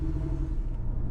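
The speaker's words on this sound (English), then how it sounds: "let's drive the 718 Cayman" Low engine rumble from a Porsche 718 Cayman base model sports car pulling away, a deep steady drone heard close up for a brief moment with no voices.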